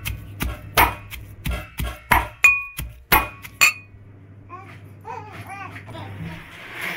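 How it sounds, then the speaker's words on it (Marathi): Green chillies pounded in a traditional mortar and pestle for a village-style chilli and tomato thecha, giving about eight sharp, evenly spaced knocks close up, then quieter grinding and scraping. "असं खलबत्त्यामध्ये वाटून घ्यायची."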